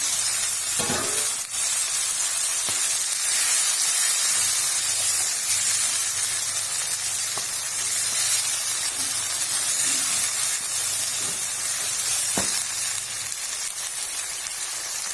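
Aloo gosht with ginger paste and yogurt fries in a hot pot, giving a loud, steady sizzle with bubbling hiss throughout. A few faint utensil knocks sound now and then.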